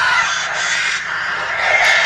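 A flock of crows caws in a horror movie, dense overlapping harsh calls forming a loud, continuous chaotic din with swells of intensity.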